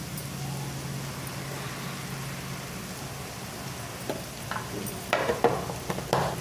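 Turmeric and chilli powder are stirred into a potato curry with a ladle over a steady low frying hiss, with scraping strokes and clinks growing louder and busier toward the end.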